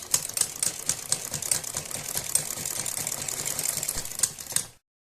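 A sewing machine stitches along a kurti neckline with a rapid, rhythmic mechanical clatter, close and steady, running for several seconds before cutting off abruptly.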